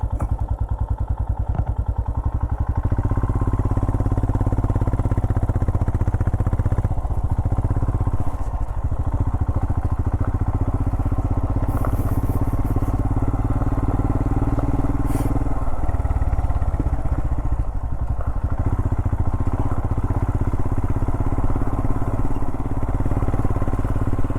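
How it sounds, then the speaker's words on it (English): Royal Enfield Himalayan motorcycle engine thumping steadily while riding a climb near Red River, New Mexico, loud and close with slight surges and dips as the throttle changes. "I don't think you can go on the bike."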